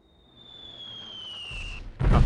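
A high incoming whistle descends for about two seconds before an artillery fire-mission shell strikes and explodes with a loud, close blast in Delta Force 2, with no talk over it.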